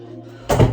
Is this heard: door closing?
yes